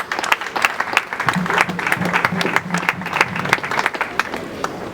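A congregation at a church service applauds steadily, dense overlapping claps filling the space with a faint tone beneath, continuous and fairly loud.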